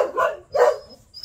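Puppies give two yappy barks in quick succession, fairly close and loud, followed by fainter whimpering noise.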